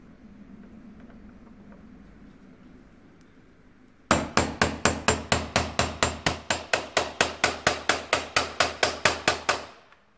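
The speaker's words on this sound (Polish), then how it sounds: "Za pomocą punktaka i młotka" After a few seconds of low background hum, a hammer strikes a metal center punch on a door lock cylinder about twenty times in a fast, even rhythm, loud and close.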